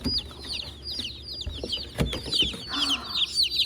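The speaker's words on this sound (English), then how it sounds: "We got more chickies." Newly delivered baby chicks, a mix of Ameraucana, Black Jersey Giant and Buff Orpington, peep in a box in steady, high, overlapping chirps close by, with soft rustling underneath.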